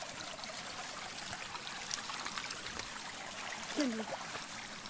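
Forest stream water flowing steadily as someone wades across it, a continuous close rushing trickle with a brief splash or movement near the end.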